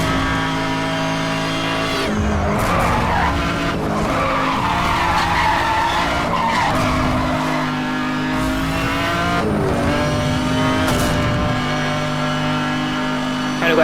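A car in Need For Speed Hot Pursuit Remastered roaring along at speed and drifting, with sustained loud engine drone and long screeching tire skids, all close and continuous.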